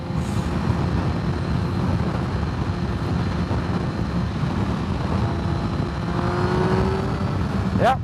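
Kawasaki ZX-10R 1000cc sports motorcycle pulling hard in sixth gear, a steady loud engine roar with heavy wind rush throughout and a rising whine near the end.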